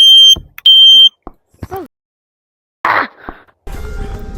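A smoke detector sounds a couple of sharp, loud high-pitched beeps, then stops. A voice and some clatter and rustling follow in a quiet indoor room during a Gorilla Tag VR session.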